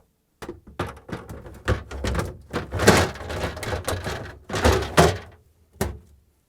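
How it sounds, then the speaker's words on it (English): Plastic bumps, knocks and sliding clunks as a Samsung refrigerator's pantry drawer is fitted into place, irregular and fairly close, with no talking. "now we can install the pantry drawer"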